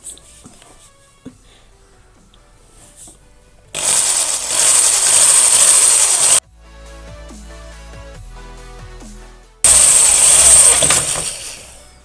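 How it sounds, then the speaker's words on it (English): A power drill in drill mode bores a hole while a spoiler is fitted to a Mini R50, R53 or R56, with two loud, high-pitched whining bursts of drilling separated by a quieter humming stretch. "So this time round we're going to try drill."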